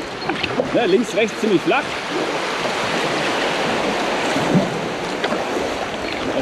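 A kayak drifts through river current on the Weiße Elster near Leipzig, with a steady rush of moving water and splashing. Someone speaks briefly at the start, over the flowing water.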